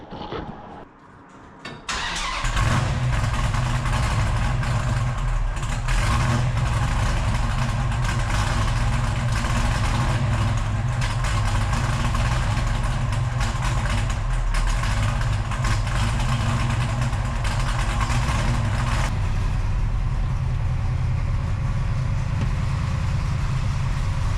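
A car engine with a new exhaust starts and settles into a steady, loud, throaty idle that rumbles on without a break.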